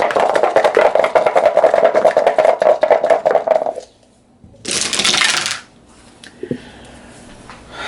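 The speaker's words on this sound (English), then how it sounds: "I just need to throw more dice at this" Dice for an Arkham Horror 2nd Edition board game rattle busily for several seconds, then a quieter pause, then a short clattering tumble as they are thrown, all close and without talk.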